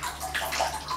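Water runs from a newly installed tap in a short, soft splash with a brief gurgle, faint and fairly close, with no talking.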